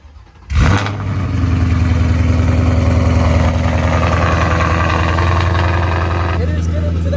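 2024 Ford Mustang GT starting up and then idling loudly with a deep, steady exhaust rumble throughout, close by with no talking.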